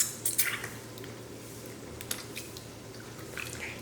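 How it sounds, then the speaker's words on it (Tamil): Ripe tomatoes squeezed and mashed by hand for mutton rasam, giving soft wet squishes and faint drips in a quiet kitchen, a few sharper squelches near the start and more toward the end. "கையில் வச்சு இந்த மாதிரி பிசைஞ்சு வச்சு நம்ம ரசம் வச்சோம்னா தான் நல்ல டேஸ்ட்டாக இருக்கும்"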